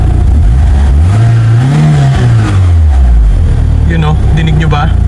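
A Mitsubishi Galant engine with an idle compensator runs loud and close, revving up in a rising and falling sweep before settling back toward idle, while people talk over it.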